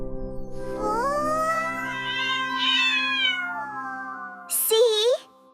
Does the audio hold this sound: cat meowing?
yes